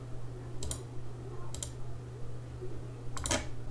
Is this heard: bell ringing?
no